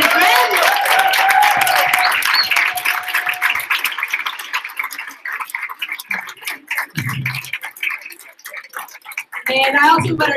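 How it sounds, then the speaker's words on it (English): Applause from a crowd at a service celebration for a fellowship class, steady and loud clapping at first that thins and fades, with voices and room noise mixing in toward the end. "let's give one last rousing applause for Atlas Corps Class 20 and friends"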